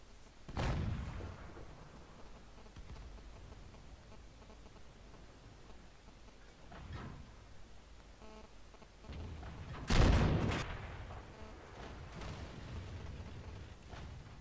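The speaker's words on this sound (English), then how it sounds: "very early in the game we get hit by a shot from artillery that takes out our loader and radio man" Artillery shell impacts on a tank in World of Tanks: a deep boom near the start, a softer thud around seven seconds, then a loud, close crashing hit near ten seconds, each trailing into low rumble over quiet game ambience.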